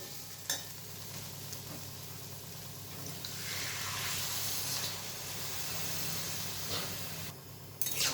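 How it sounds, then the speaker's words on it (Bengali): Water is poured into spice paste frying in a pan for a papaya and chana dal curry. A faint steady sizzle swells into a broader hissing rush partway through. The sound is quiet and there is no talking. "আমার মশলাটা কষা হয়ে গেছে। এরপর আমি জল ঢেলে দিচ্ছি।"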